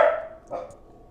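A pet dog at home gives one sharp, close bark that tails off quickly, followed by a fainter short yip.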